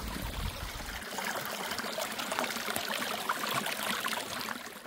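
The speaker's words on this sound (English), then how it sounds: "this is a water source, so I'm going to stop and fill the bottle with water" Water running from a trail water source while a bottle is filled on the Appalachian Trail: a steady outdoor trickle and stream flow, continuous and moderately close, with no talking.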